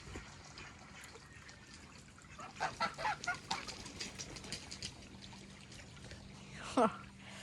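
Greylag geese, still not at full adult size, give a run of short honking calls in the middle stretch and one louder call near the end, over a steady low hum and faint trickling water.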